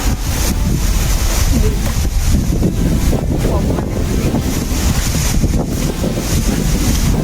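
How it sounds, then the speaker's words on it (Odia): Strong wind gusts buffet the microphone as a cyclone begins, with a steady roar and possible rain noise filling the whole stretch loudly and continuously, no voices. "ଲାଗୁଛି ବାତ୍ୟାଟା ଆଜି ପାଖରୁ ବୋଧେ ଆରମ୍ଭ ହେଇଗଲା ପବନ ଦଉଛି ବର୍ଷା ଦଉଛି"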